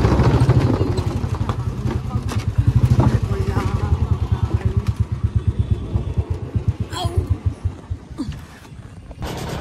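A boat engine chugs close and loud on the Bhagirathi Ganga in the morning, a rapid, steady pulsing throb with scattered clatter.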